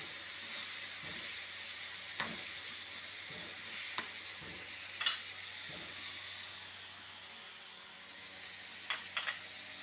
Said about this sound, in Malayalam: നമുക്ക് ആ അരച്ച അരപ്പും അങ്ങ് ഇട്ട് കൊടുക്കാം കടുക് വെളുത്തുള്ളി ജീരകം